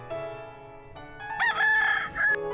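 A rooster crows once, loud and close, its drawn-out call rising over a soft sustained musical backing.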